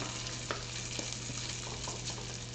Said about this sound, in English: So obviously that's why I have some bacon going here.